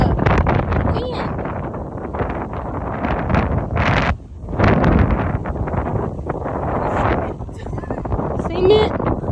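Strong gusts blow during a severe Texas thunderstorm, buffeting the microphone with loud, rough rumbling that rises and falls in surges, while people talk nearby.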